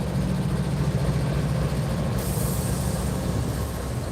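A Union Pacific freight train rumbles past steadily nearby in Eagle Pass, Texas, a continuous heavy rolling roar with faint metallic wheel noise, no voices.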